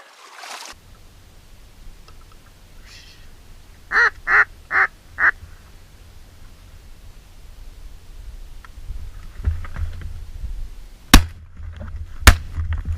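A duck hunt with ducks answering a call: a quick run of four loud, close quacks, then faint rustling and a couple of sharp clicks in an otherwise quiet setting.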